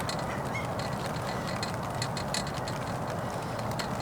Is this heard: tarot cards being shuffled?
no